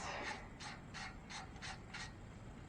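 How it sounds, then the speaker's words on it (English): A ratchet works a bolt loose on Audi A4 rear brakes: six evenly spaced ratcheting clicks, close and quiet, repeating roughly every third of a second. "I'm going to break loose this bolt"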